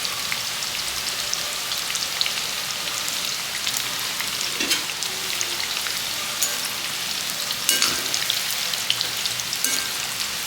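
Banana chips frying in hot oil, a dense rain-like crackling sizzle throughout, with occasional stirring knocks and scrapes, close and steady.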